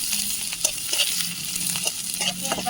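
Chopped onions fry in hot oil in a wok, a steady sizzle with occasional stirring scrapes and taps from a utensil, close and even throughout.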